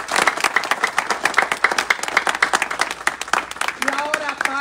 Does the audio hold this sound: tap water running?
no